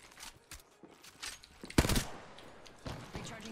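Gunfire in the Apex Legends video game comes as quick bursts of rapid shots, fairly faint and compressed, with one louder volley in the middle among scattered game effects.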